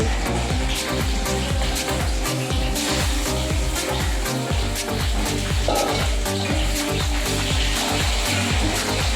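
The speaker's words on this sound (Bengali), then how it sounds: "এবার আলু দিয়ে দিচ্ছি আলুগুলো একটু লাল লাল করে ভেজে নেব" Potatoes fry in hot oil with black cumin, giving a steady, loud, close sizzle with a rapid pulsing crackle throughout and no talking.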